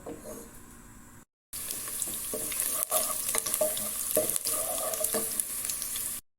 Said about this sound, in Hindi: फ्लेम को ऑन करेंगे और प्याज को फ्राई करेंगे।